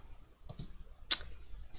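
Number keys tapped on a computer keyboard in quick succession, a few faint close clicks followed by one sharper, louder keystroke, alone without talk.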